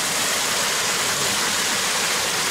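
A waterfall in a park in Bonn on the Rhine pours steadily, a dense, even hiss of rushing water heard up close without any talking.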